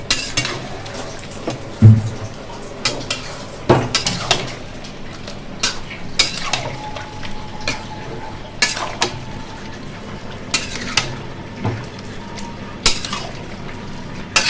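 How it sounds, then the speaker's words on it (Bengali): Curry in a pot with hot water just added is stirred, with repeated close clanks and scrapes of a utensil against metal at irregular intervals, over a low bubbling background. "এবার একটু নেড়ে আমি ঢাকা দিয়ে দেবো।"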